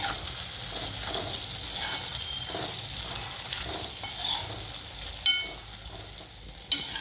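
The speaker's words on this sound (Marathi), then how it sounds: "एकदा छान मिक्स करून घेऊ।" Turmeric being stirred through potato, cauliflower and fenugreek frying in a pan, with a soft steady sizzle under repeated scraping strokes and two sharp clinks of the spoon near the end.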